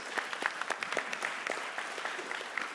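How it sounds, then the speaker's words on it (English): An audience claps steadily at a conference, a dense patter of many hands that holds at an even level throughout. "Give him a round of applause."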